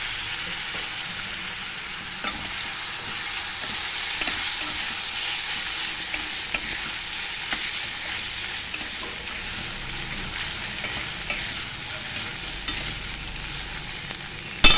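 Tomatoes fry in oil in a pan for prawn masala, a continuous close sizzle and crackle with occasional stirring scrapes and taps, no voices.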